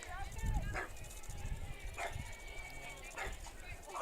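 A French Bulldog barks three times at a distance, evenly spaced, beneath continuous talking and ambient crowd noise at a college softball game.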